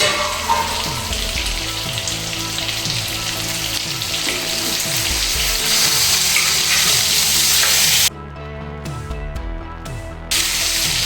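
Capsicum fries in oil in a covered pan while a Marathi-style Shimla mirchi masala bhaji cooks, giving a loud steady sizzle with stirring and scraping, then a sudden drop in the hiss as the lid comes off briefly.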